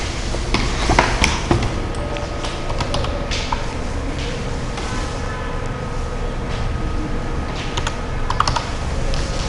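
Space bar and other keys on a computer keyboard are pressed in a quick run of close, crisp plastic clicks and taps over a faint background hiss, with no talking.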